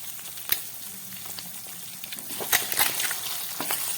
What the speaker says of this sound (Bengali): ডিমটা ফ্রাই করার জন্য আমি হাই ফ্লেম দিয়ে দিলাম